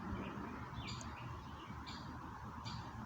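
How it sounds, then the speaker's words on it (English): Birds chirping outdoors near a bench among trees, a few short high calls spaced apart over a steady low rumble of background ambience. "There's just birdsong"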